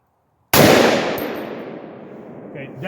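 A Palmetto AR-10 rifle fires a single 150-grain .308 round, a sharp loud blast with a long ringing decay and a faint metallic clink near the end, heard alone without talk.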